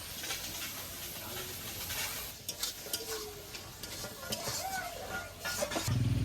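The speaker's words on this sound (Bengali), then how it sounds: "ভেজে রাখা আলুগুলো এবার দিয়ে দেবো" Fried potatoes tipped into a pan and stirred, a soft sizzle with scraping spoon strokes and a few clinks against the pan, close and fairly quiet.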